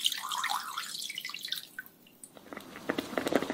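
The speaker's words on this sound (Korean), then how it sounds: "냄비에 물 부어주시고" Water is poured into a cooking pot while a tofu and pork jjageuli stew is being made: a splashing, trickling pour for about two seconds, then fading to scattered quieter drips and splashes.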